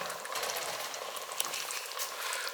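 Oxtail stew ingredients sautéing in a pot, a soft steady sizzle and crackle, faint and continuous with no talk.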